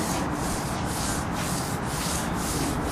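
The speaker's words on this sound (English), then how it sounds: "this sounds like I'm rubbing my hand across a piece of sandpaper" A steady, gritty rubbing of a hand across contaminated car paint, sounding like sandpaper, close up, with a gentle back-and-forth rhythm and no talking.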